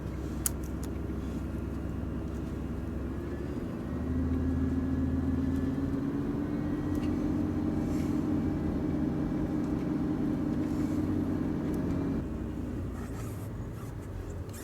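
A four-wheel drive vehicle in low range creeps down a very steep track, its engine a low steady rumble that deepens and strains in the middle stretch, with faint crunches from the ground and no talk.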